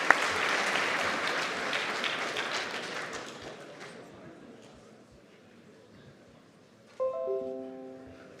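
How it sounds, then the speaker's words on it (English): Audience applause at a hackathon opening ceremony, a dense crowd clapping that swells at first then slowly thins and fades, with a brief tonal chime entering near the end. "Let's give a round of applause, please."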